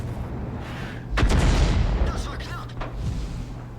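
A self-propelled artillery gun fires in a tank video game, one heavy boom with a rumbling tail rising over steady engine drone, followed by softer crackles.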